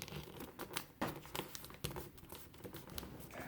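Origami paper crinkles and creases as a large corner is folded down, with close, soft crackling rustles and a few sharper creasing snaps, no voice present.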